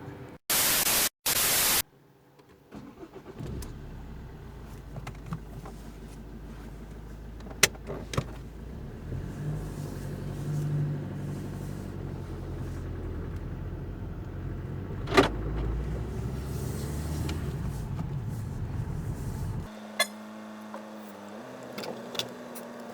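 An Opel Astra H with a loss of pulling power drives on the road, its low engine and road rumble heard faintly from inside the cabin after a few brief bursts of static at the start.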